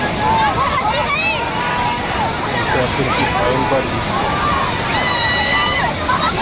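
Lonavala Waterfall near Pune, Maharashtra, in heavy flow during the rains. The water gives a steady, loud rushing roar throughout, with excited voices and shouting over it.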